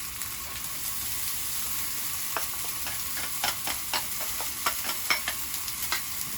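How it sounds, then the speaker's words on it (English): Spring onion, garlic and ham stir-frying in a fry pan for Chinese fried rice, a steady loud sizzle with repeated scraping stir strokes growing more frequent toward the end, no voices. "we can start putting the spring onion and garlic into the fry pan"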